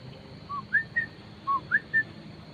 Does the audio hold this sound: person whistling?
yes